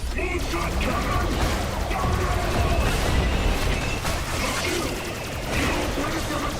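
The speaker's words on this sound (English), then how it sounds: "Moonshot cannon!" A moonshot cannon strike in the Borderlands video game, a sustained loud barrage of crashing, booming impacts and mechanical rattling lasting several seconds, with a voice faintly mixed in.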